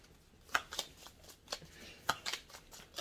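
Oracle cards being handled and shuffled, with soft, close flicks and taps that come in a few quick clusters, quiet and without speech.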